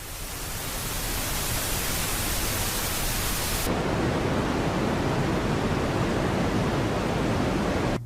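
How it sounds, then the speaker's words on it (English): Steady hiss of white noise for tinnitus masking, then a switch to a darker, softer pink noise that runs on at an even level. No talk. "Typically, a static noise is used to create this masking effect, and oftentimes they will use a white noise or a pink noise."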